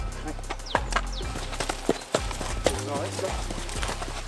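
Horse hooves clop in an irregular rhythm nearby while a person talks over them, with a low engine-like hum underneath.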